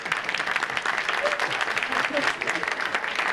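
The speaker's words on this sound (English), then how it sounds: "You can clap for him, and you won't know why in a minute." An audience at a charity check presentation applauds steadily for a few seconds, a dense even wash of clapping with a voice faintly audible underneath.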